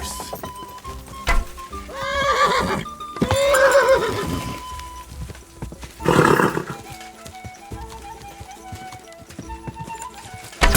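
Loud horse whinnies in Kingdom Come: Deliverance 2 ring out, several long neighs with pauses between, over a faint background hum and occasional thuds.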